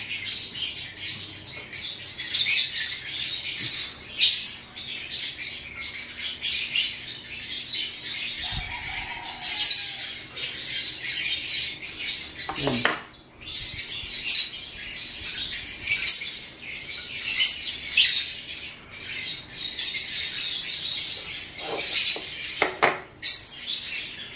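Dense, continuous bird chirping and squawking, high and busy throughout, with a few brief rustles and a low hum underneath.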